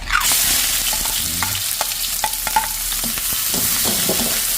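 Garlic, onion and ginger sautéing in hot oil in a pan, a loud initial hiss settling into steady sizzling with scattered clacks of a spatula stirring, close by and without speech.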